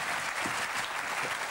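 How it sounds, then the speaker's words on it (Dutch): A theatre audience applauds, dense steady clapping that fills the whole short stretch evenly and loudly, with no voices over it. "Een harde applaus, mensen."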